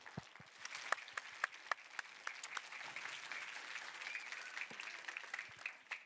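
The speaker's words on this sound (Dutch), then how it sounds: "En daar wil ik een heel groot applaus voor." A children's audience at a university lecture for kids applauds, with sharp individual claps standing out over a continuous faint patter of many hands.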